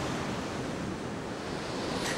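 Sea waves wash on the shore in a steady, loud roar of surf, with wind buffeting the microphone and no voices.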